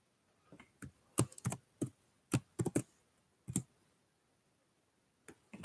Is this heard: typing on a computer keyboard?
yes